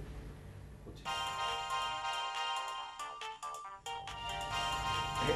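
A mobile phone ringtone plays a bright electronic melody of repeated tonal notes, starting after a second of quiet and continuing steadily at moderate volume with no talk over it.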